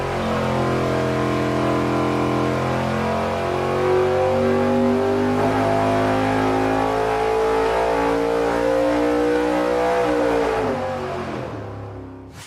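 A nitrous plate kit, jetted for a 275 shot, drives an engine through a dyno pull that climbs steadily in pitch, loud and sustained, before cutting off near the end.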